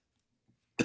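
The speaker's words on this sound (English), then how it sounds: "Stupid cough." A single sharp, close cough bursts out abruptly after near silence, loud and brief at the very end.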